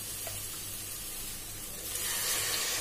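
Water pours steadily into a pot for basmati rice in a home kitchen, a continuous close rushing splash that grows slightly louder near the end, with no talking.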